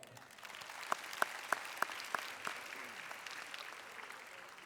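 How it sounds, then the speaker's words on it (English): A round of applause for a student honoree at a school awards event, with several sharp, distinct claps standing out near the front over a softer wash of clapping that fades as it goes on. "Round of applause for Charles."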